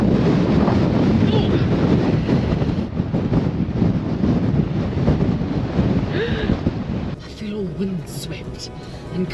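Strong, gusty wind buffets an outdoor microphone on a cold, exposed Karoo hilltop, roaring steadily and loud throughout, easing slightly near the end, with a voice talking over it.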